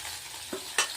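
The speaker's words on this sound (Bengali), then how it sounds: "মাছগুলো ভাজা হোক" Fish sizzling in hot oil in a pan: a steady, close frying hiss with a couple of brief stirring or spattering bursts. No one speaks.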